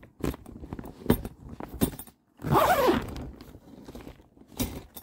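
Zippers high on a tent or awning are pulled down using coated metal rods, giving several short rasping zips and a longer drawn-out zip between knocks and rattles of the rods.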